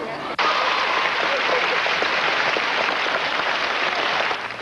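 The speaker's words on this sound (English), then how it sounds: "There was rousing applause as the First Lady made her entrance" Sustained audience applause from a crowd of about 400 Latin School of Chicago students welcoming First Lady Nancy Reagan, dense and steady throughout before tapering at the end.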